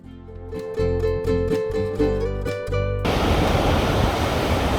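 Powerful ocean waves crash along the rocky coast near Saint-Lunaire, a loud broadband roar that swells and then floods in as a dense surge of surf, with a brief tonal hum underneath at first.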